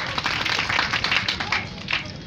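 An audience at a livestock fair award ceremony claps briefly, a short burst of scattered, uneven clapping close by that fades out within a couple of seconds.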